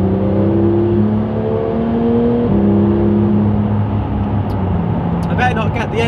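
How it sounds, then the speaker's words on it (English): Porsche GT3 engine idling and revving with a steady low drone and shifting harmonic tones, close and loud, with a brief higher whine toward the end; someone talks over it throughout. "I better not get the engine revs too high, otherwise you won't hear what I'm saying"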